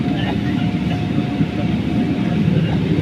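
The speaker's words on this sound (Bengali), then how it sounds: "এখনই বিমান উপরে উঠবে" A passenger plane bound for Jeddah taking off from Sylhet Osmani Airport, heard as a steady, dense engine roar that holds at constant loudness throughout.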